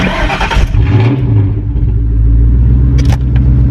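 A Ford Mustang GT with the 2-valve V8 rumbles loudly from start to finish. It gives a deep steady drone with a brief rise in revs near the start and faint clicks near the end.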